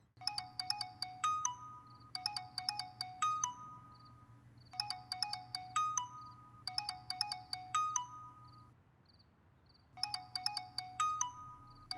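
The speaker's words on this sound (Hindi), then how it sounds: "इतनी देर से फोन बज रहा है, उठा क्यों नहीं रही हो?" A mobile phone ringtone rings unanswered indoors, repeated bursts of bright electronic melody in steady cycles over a low hum, clear and moderately close with no one speaking.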